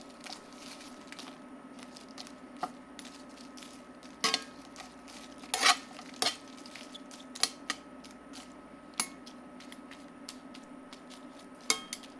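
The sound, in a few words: toasting de-seeded chilies in a pan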